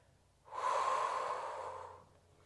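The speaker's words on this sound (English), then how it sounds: "Breathing in through the nose and out through the mouth." One slow, soft breath during a Pilates session, drawn in and let out as a smooth, airy rush that swells and fades over about a second and a half, close and quiet, with no talking.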